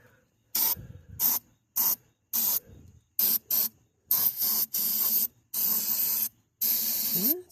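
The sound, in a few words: spraying electrical brake cleaner from aerosol can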